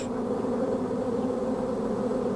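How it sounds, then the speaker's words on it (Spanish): Desert bees emerging from small holes in the ground of the Atacama Desert buzz in a dense, continuous drone, loud and close, with no voices over it. "En estos momentos están naciendo una gran cantidad de abejas que salen desde pequeños orificios en el suelo."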